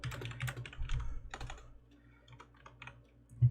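Keys clatter on a computer keyboard in short irregular bursts of typing, close and fairly quiet, with a pause in the middle and one sharp click at the end.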